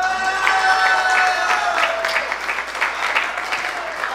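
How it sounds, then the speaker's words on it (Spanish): Loud, dense applause from wedding guests celebrating the groom, a continuous wash of clapping with some cheering mixed in, close and full throughout. "Fuertes aplausos para este conquistador novio"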